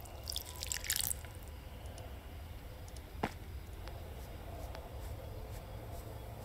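Watering a plant in the farming video game The Stillness of the Wind: a burst of splashing water early on, then scattered soft drips and one sharp droplet tap against a quiet ambient background.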